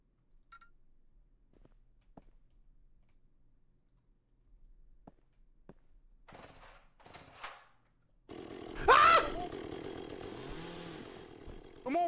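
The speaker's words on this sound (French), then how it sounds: "Il y a un gars avec une tronçonneuse." Chainsaw wielded by a pursuing enemy in the video game Bunker Invaders, a buzzing motor that kicks in loudly after scattered faint clicks and short bursts of game sounds, revving steadily for several seconds.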